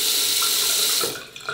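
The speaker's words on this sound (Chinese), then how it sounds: "你的水龙头在打开的时候，是往左拧还是往右拧，水会流出来？" A faucet in New York runs at full flow, giving a loud, steady rush of water that eases off near the end.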